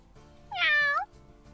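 Domestic cat giving a single clear, mid-length meow, close and isolated against a quiet background.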